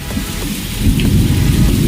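Heavy rain pours down steadily during a thunderstorm, with a dense close hiss of drops on surfaces and low rumbling thunder underneath, loud throughout with no voices.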